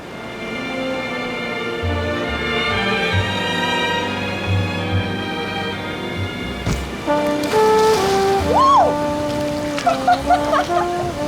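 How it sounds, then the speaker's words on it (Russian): Atlantic Ocean waves splash along the shore of Lanzarote, a steady rushing wash heard under loud melodic music throughout. "Плещутся волны Атлантики."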